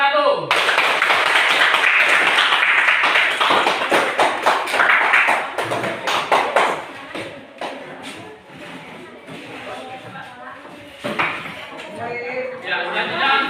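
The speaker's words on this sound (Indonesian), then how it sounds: "beri aplaus untuk kelompok 1" A classroom group in a Semarang religious-education session gets a burst of dense, loud applause that fades into scattered claps and voices, then briefly swells again near the end.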